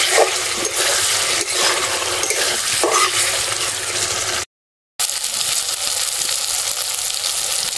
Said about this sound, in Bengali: আলু দিয়ে আরও কিছুক্ষণ কষিয়ে নেব।